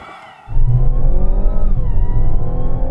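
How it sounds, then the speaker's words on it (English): A Mazda CX-60 SUV accelerates hard from a standstill: after a brief quiet idle, the engine bursts into a loud, sustained roar whose pitch climbs steadily, dipping once with a gear change before rising again. "I'm just going to stamp on the accelerator."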